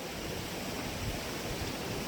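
A cool mountain valley stream on Bukhansan in Seoul rushes steadily, a broad even wash of flowing water with no voices, heard close and continuous.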